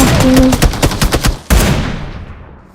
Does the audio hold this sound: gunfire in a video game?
yes